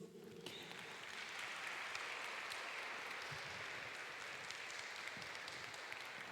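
A church prayer-group congregation applauding, dense steady clapping that starts abruptly and holds at an even level throughout, fairly distant in a reverberant room.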